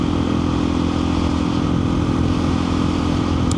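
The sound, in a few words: KTM 500 EXC-F motorcycle engine riding on road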